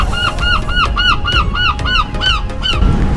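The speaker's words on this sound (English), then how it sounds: "Seagulls are loud." Seagulls at Brighton call in a rapid run of about ten loud, close, nasal cries, each squawk bending up and down, over faint outdoor background noise.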